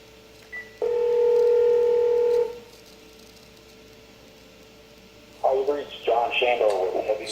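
A phone call placed to a handset inside a signal-blocking bag: a steady loud tone sounds for about two seconds, followed by a quiet gap, then a burst of chirpy electronic tones as the call drops straight to voicemail.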